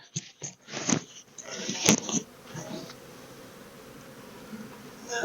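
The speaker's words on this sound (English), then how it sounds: "got a lot of bees in here" A dense, steady insect buzz of many honey bees in a backyard hive during inspection, close by, with some scraping and shuffling noises in the first couple of seconds.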